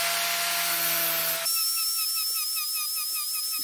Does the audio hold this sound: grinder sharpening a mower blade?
yes